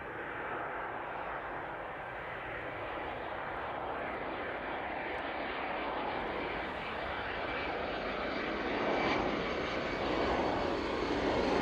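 An aircraft lands at East Midlands Airport in the evening, and its engine roars as a steady, fairly distant broadband rumble that swells slightly toward the end.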